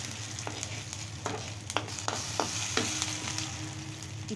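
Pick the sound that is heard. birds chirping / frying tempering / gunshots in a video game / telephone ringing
frying tempering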